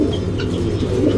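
A breeding pigeon kept for sale in Bangalore gives a soft, low, continuous cooing, close but quiet, with no talking.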